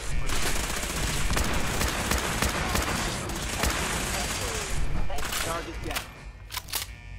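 Rapid, heavy gunfire from Maxson's weapon in Fallout 4 blasts continuously in a dense, loud barrage, thinning into a few separate shots near the end, with voices talking underneath.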